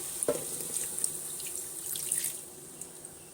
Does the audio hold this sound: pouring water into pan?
yes